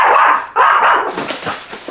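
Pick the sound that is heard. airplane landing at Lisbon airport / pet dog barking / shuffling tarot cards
pet dog barking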